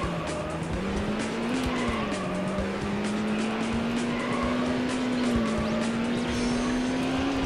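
Lamborghini Diablo driven in the racing game Need for Speed High Stakes, a steady loud engine whine with slowly shifting pitch, continuous throughout without pauses.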